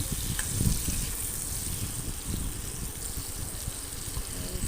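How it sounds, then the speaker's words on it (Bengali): Onions and potatoes fry in a pan for chana dal, giving a steady close sizzle with occasional soft stirring bumps. "এখন আমি পেঁয়াজ আর আলু একটু সঙ্গে একটু ফ্রাই করে নেব।"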